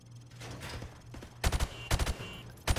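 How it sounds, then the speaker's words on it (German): Rifle fired from the hip at targets in Call of Duty Modern Warfare Remastered, three sharp, loud bursts of quick shots with short gaps between them, following a stretch of quieter ambient game noise. "Okay, schießen Sie jetzt aus der Hüfte auf die Ziele."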